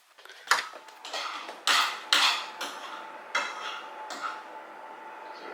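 Pots, pans and cutlery clank and tap in a home kitchen while a potato and vegetable korma lunch is cooked, a series of sharp metallic knocks and scrapes at irregular intervals, fairly close, with no talking.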